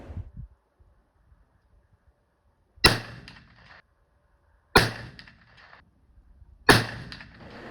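A muzzleloader rifle loaded with three Pyrodex pellets, 150 grains, behind a Hornady XTP 240-grain bullet fires three times at roughly two-second intervals, each a sharp loud boom with a short fading tail, outdoors.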